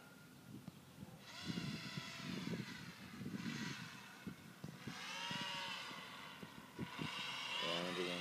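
A small Mini Super Cub radio-controlled model airplane flies repeated passes on a windy day, its electric motor giving a thin, faint whine that rises and fades several times as it comes near and moves away.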